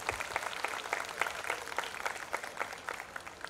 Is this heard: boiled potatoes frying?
no